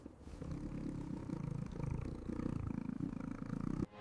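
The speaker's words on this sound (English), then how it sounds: "Look at those adorable tiny baby kittens sleeping in the nest." A mother cat purrs close by beside her sleeping newborn kittens in a soft nest, a steady, rumbling purr running continuously for a few seconds before it stops abruptly.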